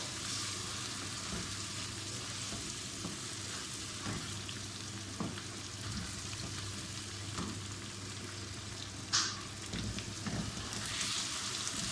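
Chicken pieces sautéing in a pan for an aloo chicken dish, a soft, steady crackling sizzle with scattered pops and the odd utensil clink, fairly quiet and close.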